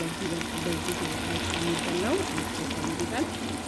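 Fish sizzles and spatters steadily in hot frying oil, a continuous close crackle with faint kitchen clatter and a brief voice in the background.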